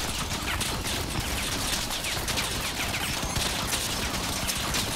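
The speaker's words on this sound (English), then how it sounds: "I'm shooting the guns, what's up with that?" Fully automatic plasma emitter weapons firing in the vehicle combat game Crossout, a dense, continuous rapid stream of crackling shots that stays loud and even throughout with no break.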